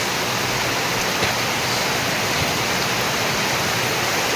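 Heavy rain pours steadily with wind, a dense, loud, unbroken roar filling the whole clip with no let-up.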